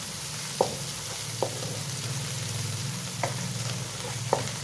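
Ginger, garlic and chopped green chillies fry with potatoes in a pan, a continuous close sizzle broken by a few sharp clinks of a spoon stirring against the pan, with no speech.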